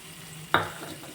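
Onions, about a cup, go into a hot pan and hit the oil with a sudden loud sizzle that then settles into a softer frying hiss, with no talking.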